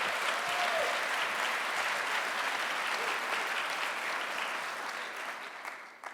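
Sustained, steady applause from a large audience at a county State of the County address, dense and even throughout before tapering off at the end.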